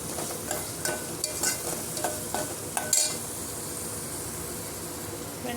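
Onions and ginger garlic paste fry in hot oil for bendakaya fry, a steady close sizzle with scattered light scraping and clicking from stirring throughout.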